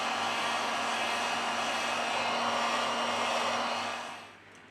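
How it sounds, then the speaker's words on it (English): A hot-air tool such as a heat gun or hair dryer blows steadily on a Huawei G7 smartphone to loosen its battery cover, a continuous broadband whoosh with a faint hum that cuts off near the end. "We apply heat to the device to remove the battery cover."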